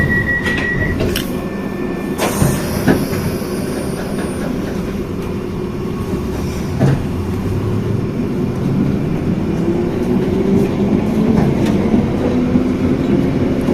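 London Underground Piccadilly line train running toward Uxbridge, a loud continuous rumble and rattle of wheels on track inside the carriage, with a brief high tone early on and a slowly rising motor whine near the end, no talk.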